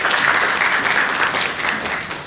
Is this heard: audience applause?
yes